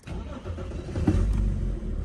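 A BMW engine, started by push button, cranks briefly and catches about a second in, then settles into a steady low idle rumble close by.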